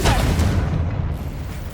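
A Confringo spell blast in a Hogwarts video game, one heavy low boom with a rushing burst at the start that rumbles and fades slowly.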